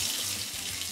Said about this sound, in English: A shower will definitely wake me up.